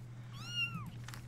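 A single drawn-out cat meow from Grim Legends: The Forsaken Bride, rising then falling in pitch over a low steady game hum, with no talking.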